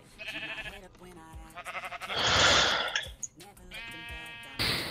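Sheep in a video game bleat several times in short, wavering calls, alternating with bursts of other game sounds and a loud noisy swell midway.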